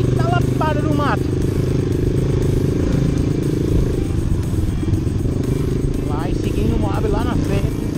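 Honda CRF 230 off-road motorcycle ridden through brush on a training trail, its engine running steadily and close throughout, with someone talking over it.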